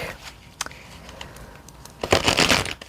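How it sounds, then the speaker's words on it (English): A Rider-Waite tarot deck is shuffled by hand, soft papery riffles and taps early on, then a louder, denser burst of card flutter near the end; close and alone. "Already done some shuffling on this"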